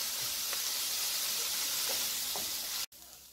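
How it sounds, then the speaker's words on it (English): Spices for Guyanese beef patties frying and blooming in a pan as they are stirred, a steady close sizzle with soft scraping touches, ending in a sudden brief cutoff. "We're going to give that a stir, and we're going to allow this to fry up for about a minute or two"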